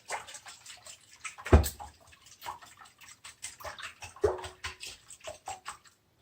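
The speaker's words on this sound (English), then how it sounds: "I'm just going to start whisking this together." A whisk beats a frittata mixture with milk in a bowl, giving quick, close, uneven scraping and tapping strokes with a watery splash, and no talking.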